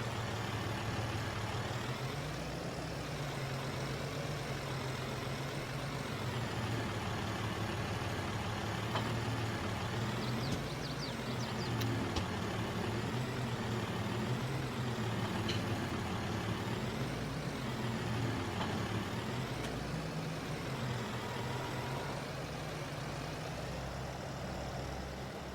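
A farm vehicle in a farming video game idles and reverses toward a trailer, its engine making a steady droning hum with slight rhythmic swells throughout and no talk.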